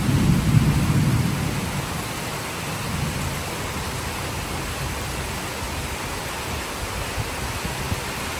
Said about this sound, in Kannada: ಫುಲ್ ಗಾಳಿ ಇದೆ ಗಾಳಿ ಮರ ಎಲ್ಲ ಹೇಗೆ ಜೋರಾಗಿ ಅಲ್ಲಾಡ್ತಾ ಇದೆ